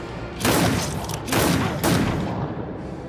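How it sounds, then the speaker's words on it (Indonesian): Gunfire in a gangster action film, where a man answers an Irish provocateur with relentless shooting: three loud bursts of rapid shots, each lasting about half a second, with booming echoes between them and no voices. "Lee membalas dengan tembakan yang bertubi-tubi"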